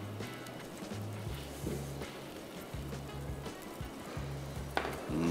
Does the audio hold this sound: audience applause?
no